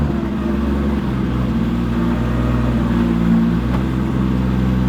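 A 1000hp-plus 2JZ engine swapped into a BMW with a ZF gearbox and a prototype ACT twin-disk clutch runs steadily at moderate revs. The clutch is engaged slowly, and the engine drones loud and close with no voices.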